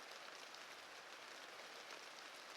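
Steady rain against a window forms a soft, even hiss that stays constant and fairly faint throughout, with no voices.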